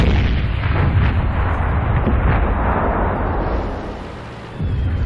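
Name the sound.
tank cannon hits in the video game World of Tanks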